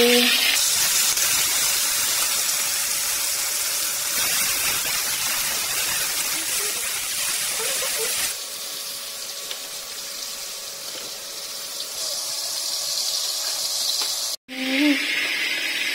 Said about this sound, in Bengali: দেখো চিংড়ি মাছগুলোকে সব ভেজে নিচ্ছি ভালো করে।